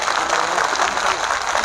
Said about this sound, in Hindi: एक बार जोरदार तालियां बजाएं खुद के लिए